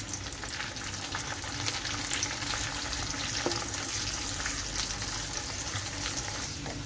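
Ginger, garlic and curry leaves fry in hot oil for a chicken pickle, giving a close, steady crackling sizzle with scattered pops and no voices.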